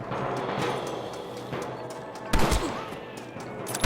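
Gunfire in the Red Dead Redemption western video game, a dense burst of rapid overlapping shots with one sharper, louder crack near the middle, heard alone without talking.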